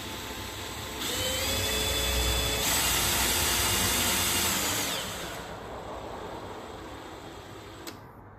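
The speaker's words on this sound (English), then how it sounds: "I've got the cable here, sort of a Smith's drive cable, and I've got it hooked up to my drill." Electric drill spinning a Smiths drive cable, a high whine that rises in pitch and speed for several seconds, then eases down and fades to a quieter hum before stopping with a small click.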